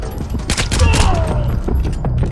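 Gunfire in the video game Splinter Cell Blacklist: a loud, dense burst of rapid shots and thuds mixed with voices talking throughout.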